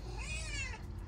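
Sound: cat meowing

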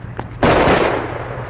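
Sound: gunshot

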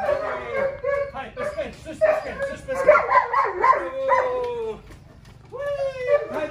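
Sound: dog barking and whining while climbing stairs

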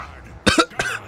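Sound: cough

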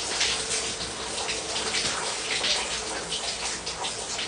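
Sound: shower water jet running

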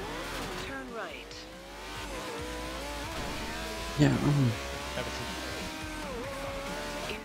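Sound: car engine and tire squeal in Forza Horizon 2 video game

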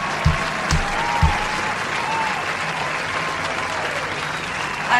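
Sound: applause

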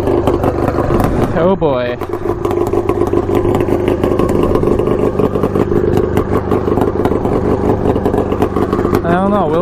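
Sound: custom Yamaha Banshee ATV engine at full throttle

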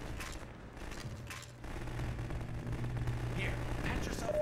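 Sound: gunfire alternate fire shot in video game Half-Life 2

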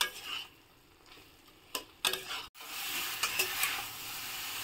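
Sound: drumsticks (sahjan) frying with tomato masala in pan

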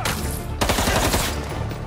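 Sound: gunfire from paparazzi's guns in Spider-Man 2 video game

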